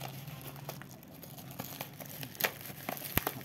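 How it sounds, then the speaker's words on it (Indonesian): Packaging of a 12 volt solenoid valve is crinkled and torn open close by, soft rustling broken by a few sharper crackles and one distinct snap near the end, with no talking. "Kita akan coba langsung unboxing ya guys solenoidnya."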